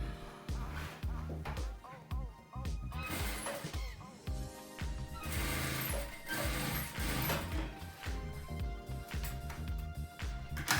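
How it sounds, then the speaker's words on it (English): A sewing machine stitching a corset runs in quiet, uneven bursts of mechanical whirring and clattering, starting and stopping repeatedly. "Let's go to the sewing machine and do it together"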